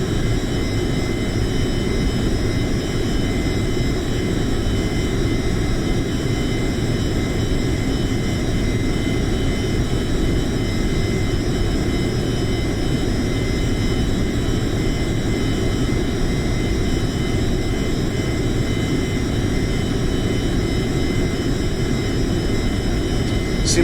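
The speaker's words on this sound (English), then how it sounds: "we're preparing for the final approach and landing" Steady, continuous roar of the B1 A bomber's jet engines during final approach and landing in a flight video game, with flaps being added as it decelerates; a dense, unchanging drone with no talk.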